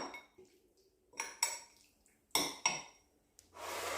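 Utensils clink and scrape against a bowl while a Catalan salmon salad (esqueixada) with parsley is tossed, in several sharp bursts with short pauses and a longer rustling mix at the end.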